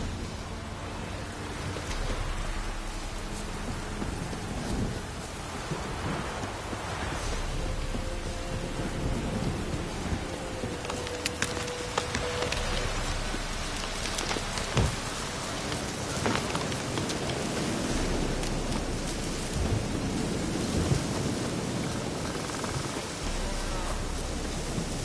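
Steady thunderstorm rain in The Witcher 3 video game, a continuous dense hiss of rainfall with rolling rumbles and sharper thunder cracks throughout, loud and close with no talk.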